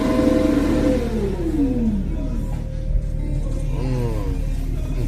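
A BMW M3 G80 in sport mode revs hard, the engine note climbing and falling in a couple of quick sweeps, loud and close, with no voices over it.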